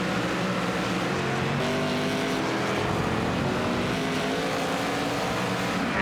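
Race cars roar along the straightaway toward a chicane at a road-course event in Montreal, a dense, loud, continuous engine wail of several cars together with no break.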